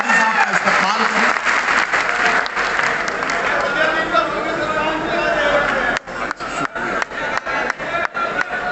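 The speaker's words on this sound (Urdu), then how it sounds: "ذرا سارے لوگ مل کے زوردار تالیوں سے جناب ڈاکٹر نواز دیوبندی صاحب کا استقبال کریں" Loud, sustained applause from an audience at a poetry gathering in Saharanpur, welcoming the poet Dr. Nawaz Deobandi, with crowd noise under it and a few isolated claps as it tapers off near the end.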